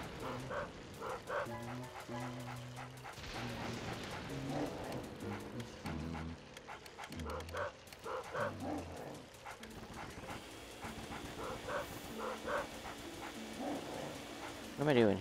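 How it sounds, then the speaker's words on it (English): A yappy dog barks and yips in the video game Luigi's Mansion, with repeated short barks through the stretch and someone talking over it alongside game music and effects. "meet that yappy dog"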